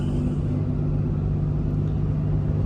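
A 4th-gen Dodge Ram 2500 Mega Cab pickup with a Cummins diesel cruises along the road, a steady low rumble heard from inside the cab.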